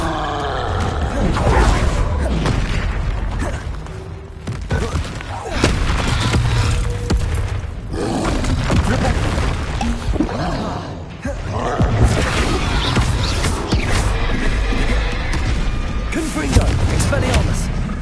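Repeated Bombarda blasting spells and fire spells in Hogwarts Legacy, fought against a troll on hard difficulty: loud, dense booming explosions and roaring bursts run almost continuously, layered with game effects and a voice talking over them.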